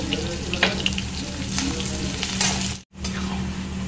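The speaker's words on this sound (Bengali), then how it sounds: "হালকা পেঁয়াজটা ভেজে আর ওটা তুলে দেবো" Onion lightly frying in a pan during home cooking, a steady close sizzle with hum and scattered crackles, briefly cutting out near the end before resuming.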